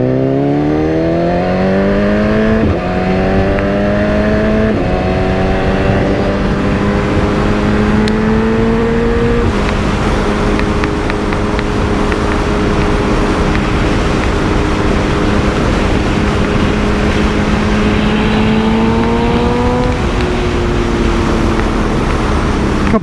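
A BMW S1000RR sport motorcycle with a Brock's Alien Head 2 full exhaust pulls away hard, its loud, close engine note climbing steadily through several upshifts with brief dips between gears, and no talking.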